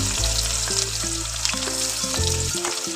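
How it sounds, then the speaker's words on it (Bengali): Crushed garlic sizzles and crackles steadily in hot oil in a pan, a dense continuous frying hiss with a few low clunks of stirring. "ভাজা ভাজা করে রসুনটা ভাজা হয়ে গেছে"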